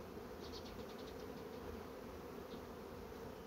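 Honeybees buzz at a hive in a soft, continuous drone, with a few louder individual bees flying close by for a moment.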